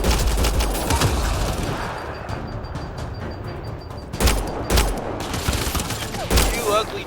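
Sustained gunfire from a firefight in the video game Mass Effect: Andromeda, with rapid volleys and heavier booming shots, loud and close, while voices speak over the shooting.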